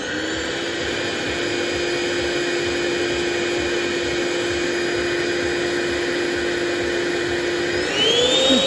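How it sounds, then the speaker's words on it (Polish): A Starmix iPulse construction vacuum cleaner runs close by with a loud, steady high whine and roar that holds even throughout, then its pitch surges upward near the end, with no talking. "Też nam załączy ten odkurzacz."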